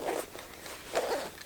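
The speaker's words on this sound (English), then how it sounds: "leave that zipper right here so you can zip it open and draw from concealed" Zipper on a concealed-carry pistol bag being pulled open in two quick close strokes, a short rasp near the start and a longer, louder one about a second later, with no talk.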